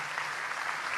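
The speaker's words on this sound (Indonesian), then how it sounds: "Tepuk tangan untuk beliau." An audience claps together at a gathering of Nahdlatul Ulama clerics, steady and fairly close for about a second.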